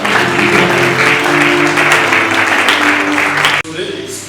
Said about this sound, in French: Avec beaucoup de respect, nous l'acclamons encore.